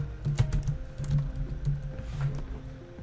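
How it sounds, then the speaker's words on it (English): Close-up typing on a computer keyboard, a quick irregular run of soft key clicks and taps that keeps going without pause, with no voices. "We can click over here and just going to type in the word YouTube"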